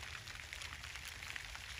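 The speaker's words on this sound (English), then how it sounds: "It's continuing to rain so many days" Steady rain falls on a garden during the harvest of chamomile, marshmallow and sage, a continuous soft, even hiss of drops pattering on leaves and soil, fairly faint, with no voices.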